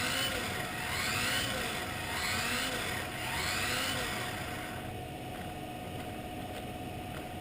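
A Kyosho RB6 RC buggy running at just over quarter throttle, its small motor whirring steadily with gentle rises and falls in pitch as it circles, moderately faint and without talk.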